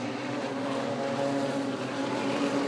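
Wingless sprint cars racing at Sydney Speedway, a steady, loud roar of engines carrying on without pause and heard alone with no commentary over it.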